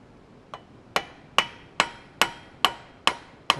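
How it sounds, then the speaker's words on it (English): A small hammer setting small rivets while making a metal candle holder with a heart handle, eight sharp, evenly spaced metallic taps roughly every half second, close and alone. "A small hammer to set rivets with."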